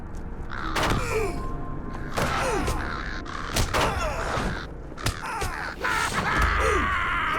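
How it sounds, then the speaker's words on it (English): Crows caw repeatedly over busy game audio in The Lord of the Rings Online, several harsh calls spread across the scene amid thumps and sharp impact sounds like shots or strikes. "Bro, I'm not hitting this bird at all. I'm missing every single shot."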